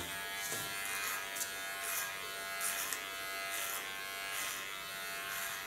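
An electric clipper buzzes steadily while shaving the nape of the neck, a close, continuous hum with slight rises and dips as it passes over the hair.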